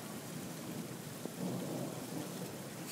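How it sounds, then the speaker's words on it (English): Thunder rumbles through a heavy summer rainstorm in Brisbane, a low continuous roll under steady loud rain hiss, with a slight swell midway and no talking. "Still hear the thunder."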